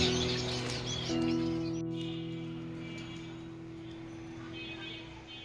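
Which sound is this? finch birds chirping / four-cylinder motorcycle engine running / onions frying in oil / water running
finch birds chirping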